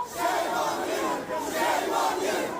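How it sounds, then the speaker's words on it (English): An angry crowd of protesters chants and shouts in a dense, continuous roar at Victoria Station in London, loud and close with no clear single voice. "officers had to protect the Levelling Up Secretary Michael Gove from an angry mob"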